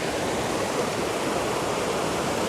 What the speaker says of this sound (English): And we've got the water flowing quite nicely. We've caught this bit and the falls.